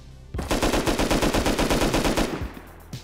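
Rapid automatic gunfire from a weapon in the video game Rust, a loud burst of about twenty evenly spaced shots lasting roughly two seconds, then a single faint shot after a short pause.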